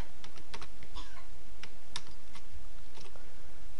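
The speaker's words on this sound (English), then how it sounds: "we'll just X out of that and type in this color" Keys on a computer keyboard are typed in a quick, irregular run of light clicks while a color code is entered, close by and with no voices.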